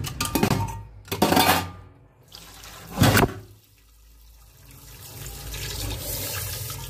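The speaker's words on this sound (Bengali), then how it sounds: "এখন বাসন কটা মেজে নিই সকালে" Tap water gushes in loud bursts over dishes being washed at a sink, with brief clinks between pours, then settles into a softer steady run. No one speaks.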